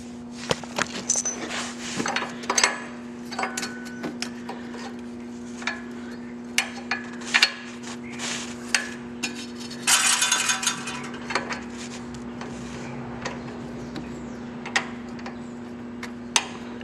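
Bolt fitted into a mountain bike lower link, a run of close metallic clicks, ticks and rattles at uneven intervals over a steady hum, with no speech.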